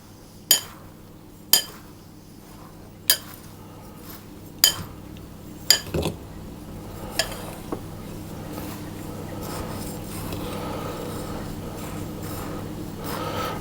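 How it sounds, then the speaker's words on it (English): A utensil knocks against a bowl as coconut, oatmeal and flour are mixed, several sharp clinks at uneven intervals that give way to quieter scraping and stirring. "put the coconut and the oatmeal into the same bowl as the flour, and then I'm going to give those a little bit of a mix around"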